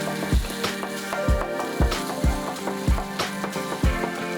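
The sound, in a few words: Tenmenjiang sauce sizzling directly on a frying pan surface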